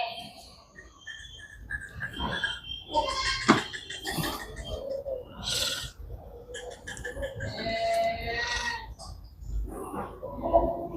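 Goats on a farm bleat and call repeatedly in irregular bursts, several animals close by, with scattered rustling and faint background voices between the cries.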